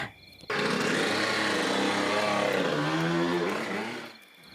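The exhaust of a 100cc motorcycle lets out a loud, harsh, continuous roar that starts abruptly, holds for about four seconds with a slight dip in pitch toward the end, then fades away.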